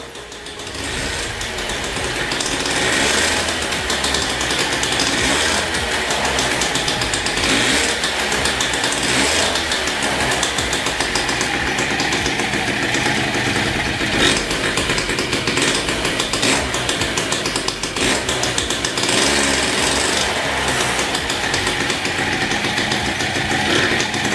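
A Derbi Variant moped engine runs continuously at a steady, buzzy idle that is set slightly low, loud and close, with no talking.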